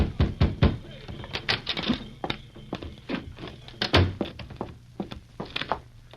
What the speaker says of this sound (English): knocked on the door of his commanding officer's quarters